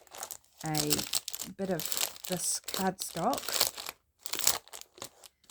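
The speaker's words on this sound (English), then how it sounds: "Sorry about the noise of the cellophane." Cellophane wrapping crinkles and rustles around cardstock in short, close bursts between phrases of nearby speech.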